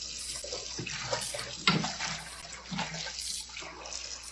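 Tap water runs steadily into a sink as raw oxtails are rinsed in a kitchen, a continuous close splashing hiss with small surges and one sharp clatter partway through.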